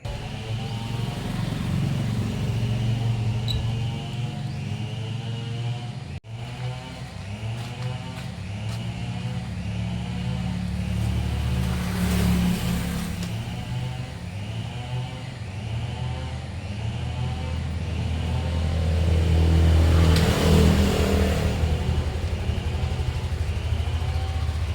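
A motorcycle engine warming up in the morning idles with a steady low chugging hum, close by, its pitch rising and swelling briefly a couple of times.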